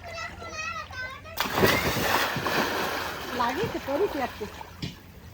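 Someone jumps into a swimming pool with one loud splash, then water churns. Children talk and shout close by before and after.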